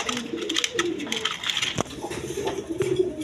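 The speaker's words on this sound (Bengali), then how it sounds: "দর্শকবৃন্দ, এখানে এক পেয়ার কবুতর আছে" A pair of pigeons coo in low, repeated throaty phrases close by, with a sharp knock partway through and light background clatter around them.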